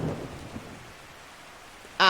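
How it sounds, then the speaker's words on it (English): Thunderstorm in the 1986 adventure game Uninvited, a low rolling rumble of thunder with rain hiss fading to quiet, then an abrupt brighter sound cuts in at the end. "this has been a thunderstorm the entire time"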